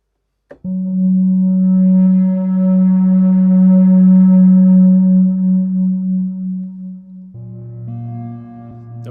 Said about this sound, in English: That works like cool for like an alarm sound.